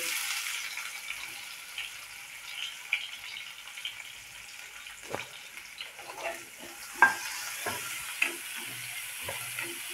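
Onion is sautéed in oil in a pan over garlic, a soft, steady sizzle with occasional spatula scrapes and knocks, close and fairly quiet.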